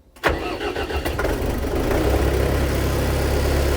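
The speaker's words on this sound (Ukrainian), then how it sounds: "запустимо міні-трактор на холодну" A Scout TY404 mini tractor engine cranks briefly from cold, catches and starts, then settles into a steady, loud idle with a low rumble.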